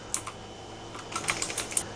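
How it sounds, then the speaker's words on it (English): Rapid keystrokes on a computer keyboard entering a command in a terminal, light, close clicks in an irregular rhythm with a short pause partway through, no talking. "we're going to come over here into the terminal, and we're just going to simply type in"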